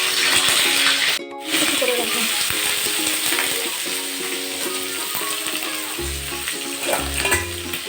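Green chillies and whole mustard seeds crackle and sizzle in hot mustard oil in a pan, a steady loud frying hiss with stirring clatter and a few clanks of utensils.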